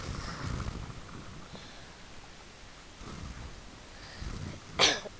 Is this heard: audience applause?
no